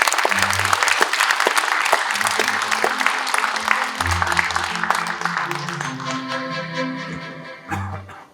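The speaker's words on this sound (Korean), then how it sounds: "큰 박수 부탁드리겠습니다" A large indoor audience at a Korean talk concert applauds a guest lecturer, dense sustained clapping throughout that eases slightly toward the end, with some background sound underneath.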